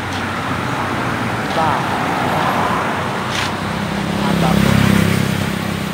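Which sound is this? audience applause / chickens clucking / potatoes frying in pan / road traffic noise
road traffic noise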